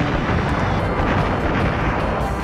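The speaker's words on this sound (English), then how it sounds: "A little ship can avoid these cannon fire better than the big one." Cannon fire aimed at a small ship in the video game Skies of Arcadia Legends, a dense, continuous rumbling roar of blasts filling the whole stretch at a loud level.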